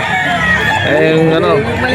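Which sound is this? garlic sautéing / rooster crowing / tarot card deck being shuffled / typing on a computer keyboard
rooster crowing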